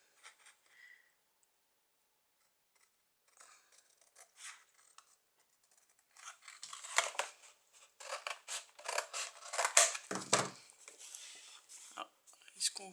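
Scissors snip through paper for a baby album, starting with a few faint cuts and then a dense run of close, crisp slicing and rustling strokes.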